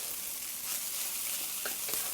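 Japanese garlic fried rice frying in a pan, pressed down with an angled spatula, giving a steady close sizzle with a few brief scraping accents near the end.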